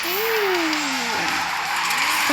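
A Pagani supercar drifts in a car-smashing video game, its tires squealing in a long sliding wail that bends in pitch, then breaks into shorter squeals over steady engine roar, loud and close.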